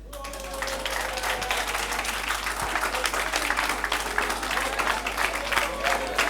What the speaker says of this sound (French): Applaudissez parce qu'elle a gagné